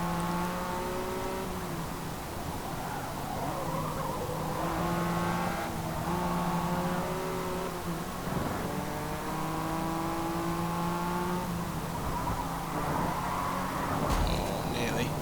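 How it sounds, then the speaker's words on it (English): Race cars accelerating in Forza Motorsport, engines revving in rising gear-by-gear sweeps with turbocharged whine, loud and sustained, while a commentator talks over them. "Drag race to the finish line"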